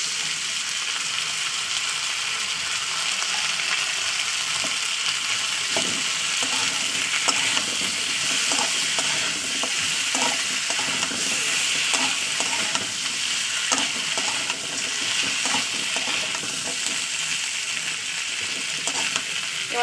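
Paste added to a frying pan of hot oil while cooking a fish curry with drumsticks and potatoes, a steady hissing sizzle with scattered stirring clicks and scrapes, even and continuous with no talking.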